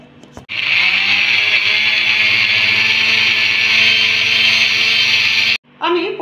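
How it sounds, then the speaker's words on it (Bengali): Loud, steady blender whir grinding a paste of green chilli, ginger, garlic and onion, running unbroken for about five seconds before cutting off abruptly, followed by brief clatter. "আমি সেই জন্য এখানে কাঁচা লঙ্কা, আদা, রসুন, পেঁয়াজ আমি পেস্ট করে নিচ্ছি।"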